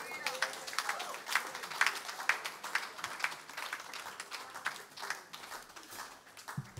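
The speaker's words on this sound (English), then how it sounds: "Clap your hand and give Him praise this morning." A church congregation claps along during a worship service, the hand claps landing in a fairly regular rhythm at moderate, slightly distant volume, with a faint murmur of voices underneath.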